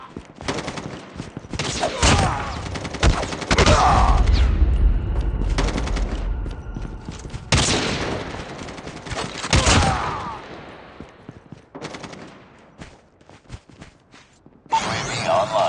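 Gunfire in the mobile shooter Call of Duty, with loud sustained automatic bursts and heavy volleys, some whooshes, separated by brief quieter stretches.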